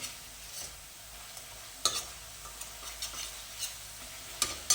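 Powdered spices roast in a pan for veg kurma, a steady low sizzle broken by occasional sharp clicks and scrapes from a stirring spoon, with no voices.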